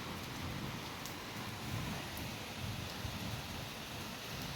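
Heavy rain falls in a steady, dense hiss that holds evenly without letting up, with faint drop spatters and no voices.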